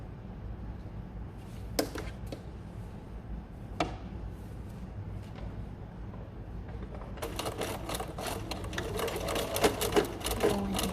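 A sewing machine stitches a hem on custom-made drapery, running as a steady close mechanical whir with a few sharp ticks early on, then growing louder and busier in the last few seconds.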